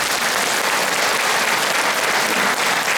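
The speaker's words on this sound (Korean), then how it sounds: "지금까지 열린 강의를 해주신 박석순 교수님께 큰 박수 한번 부탁드립니다" Audience at a lecture on the environmental and economic value of the Geum River weirs applauds steadily and loudly for the whole stretch, a dense wash of clapping hands with no speech.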